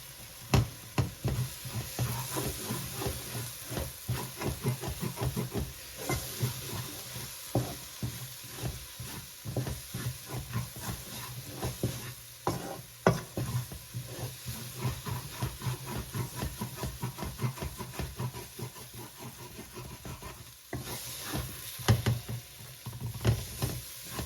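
Curry paste for Trinidadian curry channa sautés in a pot, a continuous moderate sizzle with rapid crackles and stirring scrapes running steadily throughout, close and without voices.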